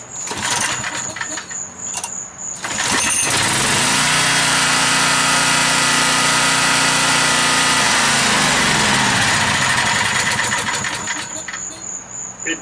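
A portable generator running on LP or natural gas, its small engine starting with a pull and then droning steadily and loudly up close at a high-pitched, buzzy idle for most of the stretch before easing back.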